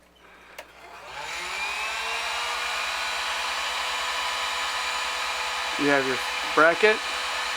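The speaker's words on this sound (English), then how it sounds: "If your tubing is a little on the stiffer side like mine is, get a heat gun." A heat gun set to about 500 degrees blows a steady, loud roaring hiss while warming stiff water line tubing for a rat rack, with someone briefly talking near the end.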